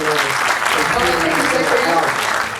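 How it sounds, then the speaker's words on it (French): Audience applause at a film screening event at the Grand Rex, steady dense clapping filling the room throughout, with some voices mixed in. "Est-ce qu'on peut applaudir ces messieurs ainsi que toute l'équipe qui a tourné"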